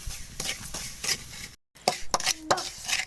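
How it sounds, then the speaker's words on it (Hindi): Semolina being roasted in ghee in a pan, heard as scraping spoon strokes and clinks against the metal pan in short bursts, with a brief silent gap midway. "और अब हमने सूजी की इसी घी के अंदर भुनाई करनी है।"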